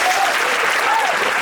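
A concert crowd applauds a special guest at a performance, with a dense, loud, continuous wash of clapping and faint vocal tones over it in a brief burst.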